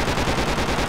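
Rapid machine-gun fire from the Project Reality v1.39 Kokan round, Afghan insurgency mode: steady, loud rattling bursts pounding throughout, with no voices.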